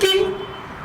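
Old Chevy's current horn giving one short, thin, reedy honk that quickly fades, heard alone at close range.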